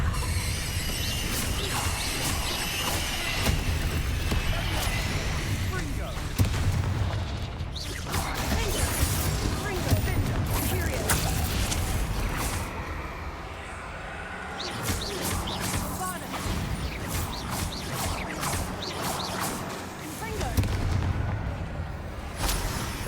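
Repeated Confringo blasting-spell explosions in the Hogwarts Legacy video game, booming impacts and crashes in a dense, loud stream of game combat effects over about twenty seconds.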